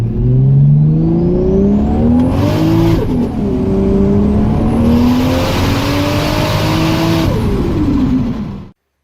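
A 700HP Toyota Supra engine revs loudly on a dyno, its pitch climbing in two sustained pulls with a brief dip between, then cutting off abruptly at the end.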